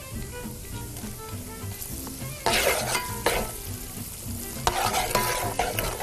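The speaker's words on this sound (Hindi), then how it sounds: "लहसुन अदरक साथ ही भुन रहा है" Garlic, ginger, ground red chilli and spices frying in ghee, a soft steady sizzle that flares into louder bursts of crackling as a spoon stirs and scrapes the pan, close and without speech.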